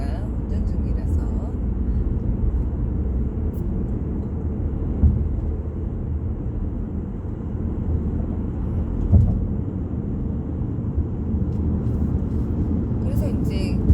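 A steady low rumble fills the cabin of a car being driven, continuous and even throughout, with a person talking over it.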